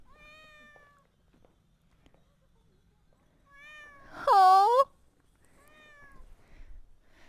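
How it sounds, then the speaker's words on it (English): A cat meows several times on a cold day in a water town, the calls thin and tonal, with one louder, drawn-out meow in the middle and a short exclamation from a person nearby. "if you can hear and see the cat, please let me know"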